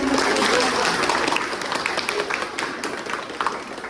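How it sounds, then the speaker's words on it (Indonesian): An audience in a lecture or certification session applauds, with dense clapping loudest at first and then thinning into scattered claps over a few seconds. "sebelum ini kita kasih aplaus dulu"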